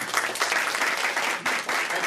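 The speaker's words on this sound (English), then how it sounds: "let's give a big round of applause" Dense applause from a lecture audience at a university talk on politics, a steady broadband clatter of many hands filling the whole stretch with a brief dip near the end.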